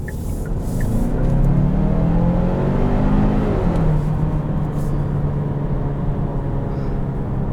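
A 2021 Kia Sorento SX with the 2.5 turbo engine pulling steadily from inside the cabin, a loud continuous engine drone with rising tone under road and tyre noise, no speech.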